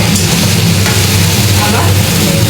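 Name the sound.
stirring mango pickle with sugar and salt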